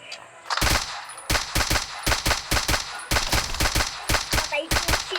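Rapid gunfire in a shooting video game, fired in quick bursts of sharp cracks with brief gaps between volleys, loud and close, with a faint voice now and then.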